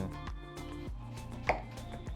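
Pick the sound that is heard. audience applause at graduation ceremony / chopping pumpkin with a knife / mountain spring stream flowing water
chopping pumpkin with a knife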